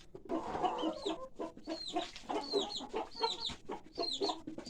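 Several chickens cluck and murmur close by in their coop in the evening, with overlapping soft calls and higher chirps continuing throughout.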